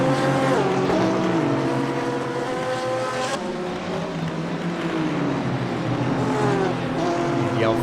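A Porsche GT3 race car in a Blancpain GT3 Series sim race at Spa-Francorchamps screams through its gears, engine pitch climbing and dropping with each shift, loud and continuous under a commentator's voice.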